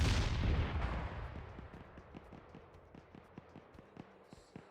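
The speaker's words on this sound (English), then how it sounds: "I'm trying to have some gunshots go off in the distance" A loud boom fades into a run of faint, distant gunshot pops, irregular and scattered over a low rumbling background, like far-off gunfire in a battle, in the video game Arma 3.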